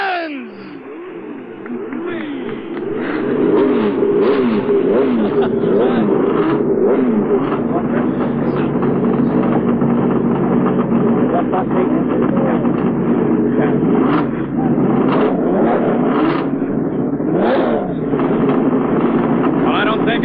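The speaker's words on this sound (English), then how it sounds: "Gentlemen, start your engines!" IndyCar race car engines start and roar continuously near and loud at a CART race in Cleveland in 1989, revving and overlapping with rising and falling pitch, several cars running at once.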